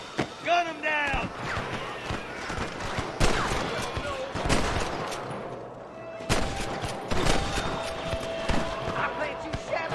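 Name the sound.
gunfire at a rustler guard in video game Red Dead Redemption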